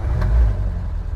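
A car engine catches with a short low rumble and settles into a steady idle, heard near and alone without any talking.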